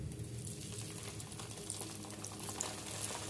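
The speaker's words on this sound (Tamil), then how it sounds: "ஒரு பேனில் எண்ணெய் ஊற்றி எண்ணெய் காஞ்சதும் இதை போட்டு ஃப்ரை பண்ணி எடுத்துக்கலாம்" Small cut pieces of idli fry in hot oil in a pan, giving a continuous soft sizzle and bubbling with faint light pops, low and steady throughout.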